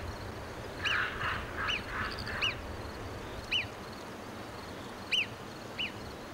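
Alpine marmot sentinel giving alarm whistles: about seven short, sharp, high calls spaced irregularly over a few seconds, fairly close and clear above a steady low outdoor hum.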